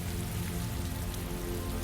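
Steady rain falls in a dense, even hiss over a surface, continuous and close, as a sound effect in a narrated story, with no voices.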